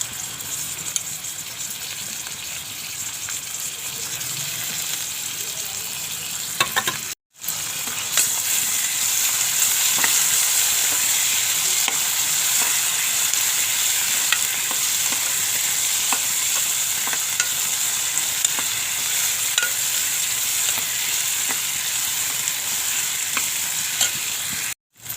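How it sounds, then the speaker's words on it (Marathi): Onion sizzles steadily in a frying pan as tomato goes in for a Maharashtrian Bhogi mixed-vegetable dish, a continuous close crackle with a brief break around seven seconds, no voices. "कांदा भाजत आलाय तर टोमॅटो टाकते."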